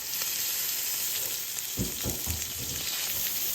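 A steak sears in a hot pan with a steady broad sizzle, joined midway by a few louder bursts of spitting and crackling, close and continuous without talk.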